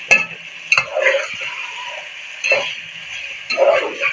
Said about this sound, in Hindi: और थोड़ा सा हम इसको भूनेंगे, सिर्फ लाइट सा हमें कलर जो है वो गोश्त पे चाहिए